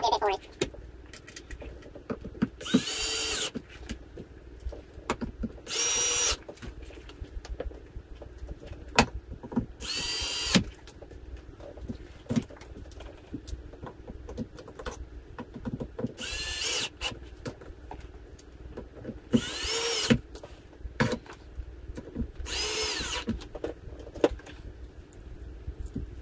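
Cordless power drill on a low torque setting driving screws back into an electric scooter, heard as repeated short whirring bursts spaced a few seconds apart over a background of clinks and handling noise.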